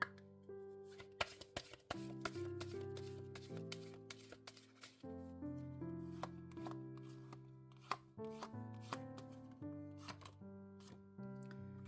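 Oracle cards are shuffled by hand in a tarot reading, giving soft repeated riffling and tapping clicks close by, under gentle melodic background music.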